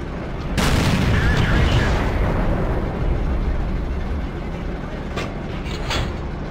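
A Nashorn tank destroyer's main gun fires once in World of Tanks, a loud booming blast followed by a long rumbling echo that slowly fades over several seconds.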